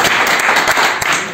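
Classmates applaud together in a classroom during a lubrication-system inspection presentation, a short burst of dense, steady clapping close by with no talk over it.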